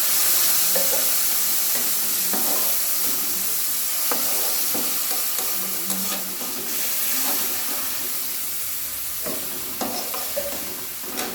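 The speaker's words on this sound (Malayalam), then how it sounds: "ഇനി നമുക്ക് ആവശ്യമായ കുറച്ച് വെള്ളം ഒഴിച്ചെടുക്കാം" Water is poured into a hot pan of frying onions, green chillies, cashews and raisins, producing a loud, continuous sizzle and bubbling hiss with faint stirring clinks, close up and without talking.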